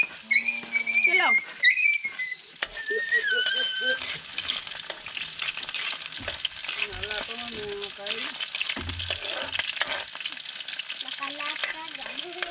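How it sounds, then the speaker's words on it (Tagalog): Garlic and onion hit hot cooking oil in a home kitchen, giving a loud, steady frying sizzle with stirring and utensil clatter throughout, under occasional voices. "So, mainit na yung mantika natin. Lagay ko na yung bawang sibuyas."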